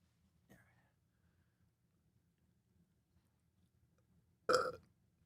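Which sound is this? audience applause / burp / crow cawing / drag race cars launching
burp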